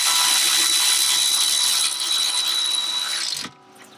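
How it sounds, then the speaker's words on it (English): An electric ratchet whirs loudly and continuously as it tightens the stiff new nuts on BC Racing coilovers for a 2023 Mini Clubman JCW, then cuts off abruptly near the end. "You can do them really quick with the electric ratchet."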